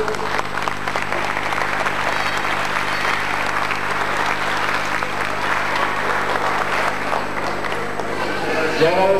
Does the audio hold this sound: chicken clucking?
no